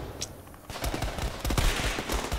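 Gunfire in the video game Call of Duty: Cold War, a dense, loud stretch of rapid shots and bursts that crackles continuously from beginning to end.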